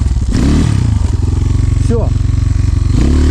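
Enduro motorcycle engine runs loud and close with a steady pulsing throb, dipping briefly and rising again as it is revved, while someone says a single word.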